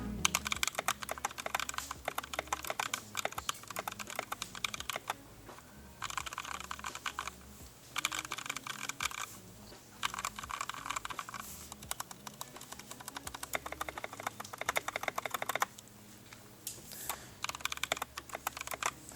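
Fast, continuous typing on a freshly built mechanical keyboard with lubed switches, a close, dense patter of muted clacks in steady bursts with brief pauses, no voices.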